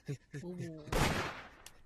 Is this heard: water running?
no